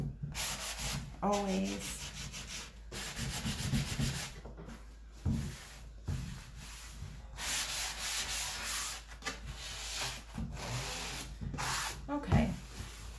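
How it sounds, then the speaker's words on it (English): Furniture edges are distressed by sanding in repeated bursts of rough rubbing and scraping, with pauses between strokes and a voice speaking briefly in between. "Some distressing on the edges"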